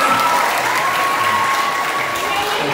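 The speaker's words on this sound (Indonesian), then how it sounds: "Tepuk tangan semuanya." An audience bursts into steady, continuous clapping at a live comedy talk, a dense and even patter of applause that holds for a few seconds with no break.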